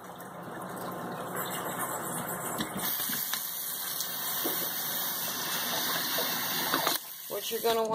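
Cold tap water runs steadily over brine shrimp held in a reusable coffee filter at a sink, a continuous close gush that gets a little louder, then cuts briefly near the end before resuming, with faint speech mixed in.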